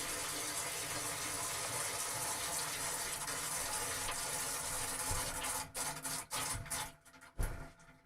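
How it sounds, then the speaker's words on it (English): Water running steadily into a home brewing vessel, a continuous rushing pour that fills the first part, then breaks into sputtering bursts and splashes as the flow is cut off, fairly quiet with no talk. "I'm going to fill this up about 5 litres, so I can pump some fluid through the pipes"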